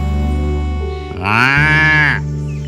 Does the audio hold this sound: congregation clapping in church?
no